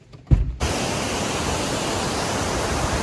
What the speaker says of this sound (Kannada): ಇವಾಗ ಅತಿರಪಲ್ಲಿ ವಾಟರ್ಫಾಲ್ಸ್ ಇಂದ ಚಾರ್ಪಾ ವಾಟರ್ಫಾಲ್ಸಿಗೆ ಬಂದಿದ್ದೀವಿ